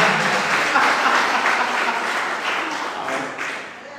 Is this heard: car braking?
no